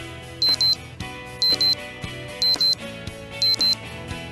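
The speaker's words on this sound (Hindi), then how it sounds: "जब घड़ी सुबह के 4:30 बजाती है तो उनकी ये कोठी अलार्म की आवाज से गूंज उठती है" An alarm clock rings at 4:30 in the morning in a large house, sounding as loud, repeated electronic double bursts about once a second, four times over, with a tonal background underneath.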